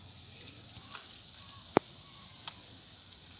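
Two chickens roasting over charcoal give off a faint, steady sizzle and hiss, with a single sharp crackle and a softer pop standing out from the low background.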